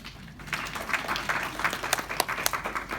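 Graduation audience breaks into sustained applause, many hands clapping loudly and densely together at close range, building after a brief quiet start.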